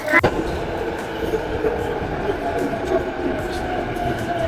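A train pulls into a Tokyo station, its low rumble and rolling rail noise steady and fairly close beneath a faint background voice, with a sharp click near the start.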